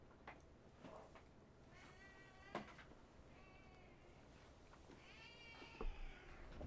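Pet cat named Sadie meowing indoors, several drawn-out meows spread over a few seconds, faint and fairly close against a quiet room.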